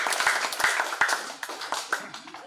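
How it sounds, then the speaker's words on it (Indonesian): Congregation members at a Christmas celebration of the Galatia prayer group clap together, with distinct sharp claps standing out from a moderate, fairly close round of applause. "Tepuk tangan dulu buat Bapak Ibu."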